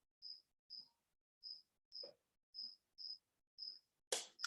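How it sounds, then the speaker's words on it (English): Crickets chirp in a garden at night, eight evenly spaced bursts standing out clearly against quiet surroundings, followed by a short louder rustle at the end. "The sound of crickets is totally coming from my garden"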